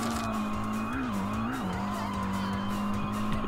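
Car skidding after a handbrake pull in the Tokyo Xtreme Racer Drift 2 racing game, a continuous loud tire squeal with a wavering pitch over a steady engine drone.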